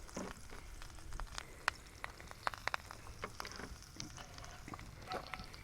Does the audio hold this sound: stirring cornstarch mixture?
yes